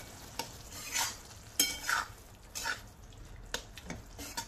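Spices are stirred into spinach and tomato in a pan: repeated scraping strokes of a spoon against metal in an irregular rhythm over a soft, low sizzle, close and fairly quiet.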